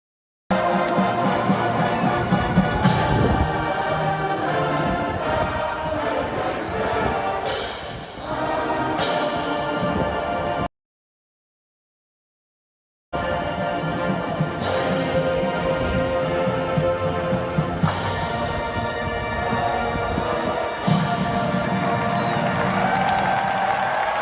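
A large stadium crowd at an SEC college football game sings a song, a dense, roaring wash of voices with cheering swells throughout, broken by a short silent gap midway.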